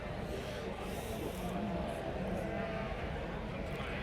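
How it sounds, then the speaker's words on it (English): Sheep being prepped at a crowded ringside at the Great Yorkshire Show bleat intermittently amid a busy background hum, the calls soft and somewhat distant under a steady murmur. "the sheep getting prepped in the background are not too loud and noisy"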